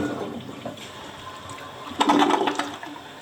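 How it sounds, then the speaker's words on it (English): A Toto toilet in a hotel bathroom flushes, starting with a sudden rush of water that gurgles briefly and fades within about two seconds; quiet room noise comes before it. "Now let's make sure it flushes properly."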